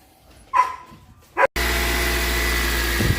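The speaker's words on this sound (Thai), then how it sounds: "มาฟังเสียงเครื่องยนต์ครับ" After a couple of short dog barks, a 2004 Honda Civic 2.0 engine with about 240,000 km starts and settles into a steady, loud idle hum with a constant low rumble.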